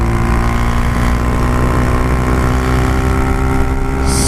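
Honda Grom small single-cylinder motorcycle fitted with a 17-tooth rear sprocket, engine held high in third gear under acceleration: a steady loud buzzing drone with strong harmonics, close-miked with wind rush, no talking.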